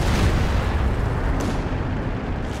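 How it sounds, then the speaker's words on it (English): A 240mm artillery barrage in the Company of Heroes 2 real-time strategy game: heavy, continuous rumbling booms with loud low-end blasts rolling together, up close and without talk. "240mm artillery called in on the tier 4 tech"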